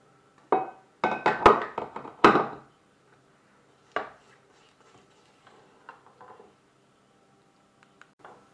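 A spatula scrapes and knocks around a mixing bowl of creamed butter, with a cluster of sharp taps and scrapes early on, then a few softer, sparser knocks in a quiet room.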